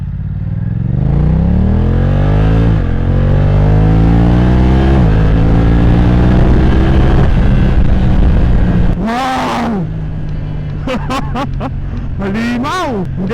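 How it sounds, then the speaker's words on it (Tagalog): A BMW F900R motorcycle with carbon fairings and a quick shifter, engine revving up through the gears with sharp rising pitch sweeps and brief drops at each shift, then auto-blip downshifts with quick throttle bursts, loud and close. "hindi na rin ako nag-clutch para magbaba ng gear. Yun naman yung auto blip."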